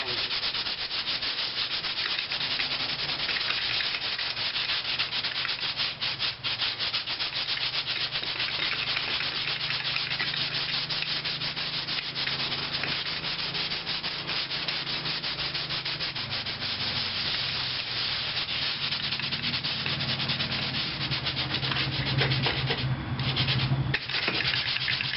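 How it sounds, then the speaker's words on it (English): A power sander with a soft pad works body filler on a car panel during rust repair, giving a continuous close, loud abrasive whir and rasp that holds steady without breaks. "The sander has a soft pad underneath it."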